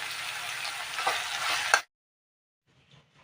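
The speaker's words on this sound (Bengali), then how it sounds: "এখন এই মশলা আর পটল একসাথে আমি খুব ভালো করে ভাজা করে নেব" Spice paste and pointed gourd fry together in a pan, a moderate close sizzle with stirring scrapes that cuts off abruptly partway through, followed by near silence with faint soft sounds.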